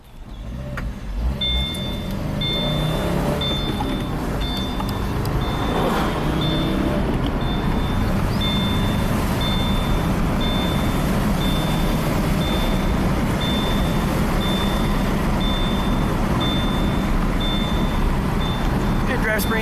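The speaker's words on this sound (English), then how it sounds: "Take this car for a test drive. Stick shift, 6-speed manual." A Subaru with a six-speed manual gearbox on a test drive, its engine and road noise droning steadily throughout, with a repeating high electronic beep running through most of the drive.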